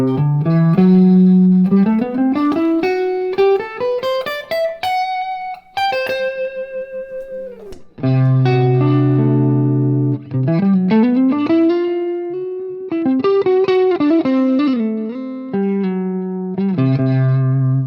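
Distorted electric guitar plays a rising and falling C Lydian scale run, sustained notes with bends, loud and close with no talking.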